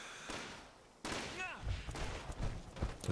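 Gunfire in the game Fallout 76: a few muffled shots and thumps, with a louder burst after the first second, heard under a quiet voice.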